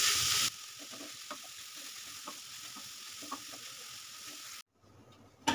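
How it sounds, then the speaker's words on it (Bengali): Grated carrot frying in ghee in a pan on low heat: a steady, faint hiss with light crackles throughout, close by, ending in a brief louder stir. "ঘিয়ের মধ্যে আমি গাজরটাকে প্রথমে একটু ভেজে নেব।"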